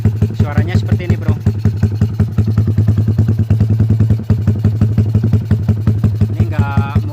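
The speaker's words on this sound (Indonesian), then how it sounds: "Ini untuk suara knalpot WRX" Idling close by, a Yamaha MX motorcycle with a 155cc bore-up and an aftermarket WRX exhaust keeps up an even, loud, chugging beat with a slight clatter, and someone speaks briefly over the engine.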